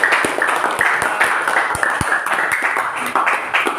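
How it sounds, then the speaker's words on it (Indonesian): A classroom full of students claps together after presentations in a school lesson, a dense, steady patter of many hands applauding close by for several seconds. "Jadi kita beri tepuk tangan sekali lagi untuk kita semua"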